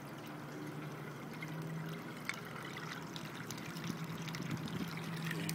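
Water drains steadily through an aquaponics bell siphon, a continuous broadband trickling and pouring wash with small gurgles, close and moderately loud, with no talk.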